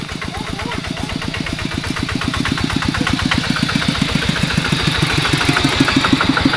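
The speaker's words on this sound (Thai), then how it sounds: "รถมาแล้ว" A vehicle engine runs on a rural village road in southern Laos with a steady, rapid pulsing chug that grows slightly louder as it nears. Faint voices sit underneath.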